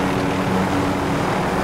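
Helicopter in the video game Warzone, a loud steady rotor and engine drone with a faint hum running through it, continuous and close for the whole short stretch.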